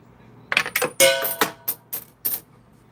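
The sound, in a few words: coin pusher machine pushing coins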